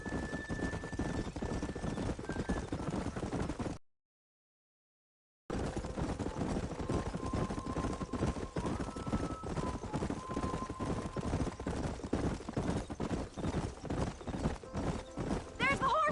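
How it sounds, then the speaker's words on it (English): Horse hooves clip-clop steadily across a Western landscape in Red Dead Redemption, close and continuous over the whole stretch apart from a brief silent gap, with voices talking over the trotting. "There's the horses!"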